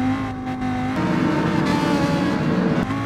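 Race car engine in GT Sport at Fuji Speedway, a GR4-class machine on full throttle toward the first corner, a loud continuous howl with steady harmonic drone, close-up and without any talking.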